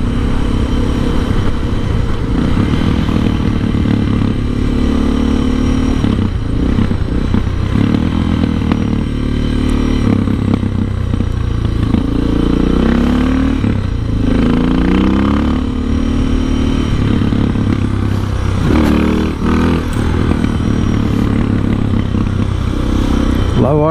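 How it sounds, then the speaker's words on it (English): A motorcycle engine putters steadily at low revs in low gear, with small surges and dips in the throttle, loud and continuous throughout. "Low gear, just kind of idling along."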